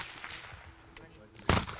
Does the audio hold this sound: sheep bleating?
no